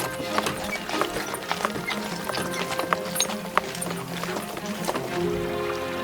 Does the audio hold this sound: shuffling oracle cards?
no